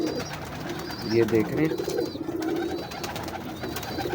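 Pigeons of a show breed coo softly in short throaty bursts around a loft, layered with faint chirps and ambient noise, while someone talks over them.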